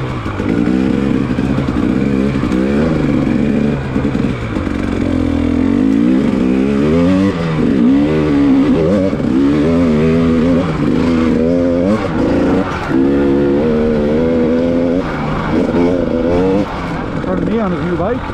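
A brand-new motorcycle rides along a woodland trail with its engine loud and close, revving up and down and rising and falling steadily. Wind and rattling run underneath throughout, and there may be some talk.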